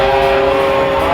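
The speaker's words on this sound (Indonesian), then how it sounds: "Kalian bisa lihat kereta lewat ya." Loud, close rumble of a train going past, with a steady droning tone running through the continuous mechanical roar.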